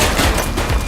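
Gunfire in the police video game The Precinct, a loud close burst of rapid overlapping shots filling the whole moment with no talk.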